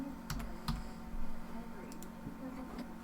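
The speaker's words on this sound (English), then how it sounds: "You just go to maps and do search, and then you type in surf" Fingers type a search on a computer keyboard during a browser-game session, giving a quick run of light, close clicks and taps over a steady background hum.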